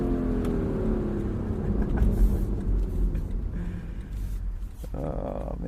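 A Lexus engine revving hard against its rev limiter, a loud close roar with rising and bouncing pitch, heard from inside the car and settling slightly toward the end.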